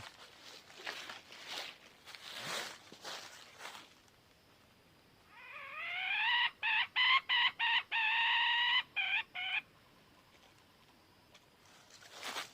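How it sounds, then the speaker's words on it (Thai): A rooster crows in a hillside garden, one long loud warbling call in the middle, broken by brief gaps, preceded by scattered outdoor rustling and softer animal noises. "ใส่ไก่อยู่แถวนี้ครับท่านผู้ชม"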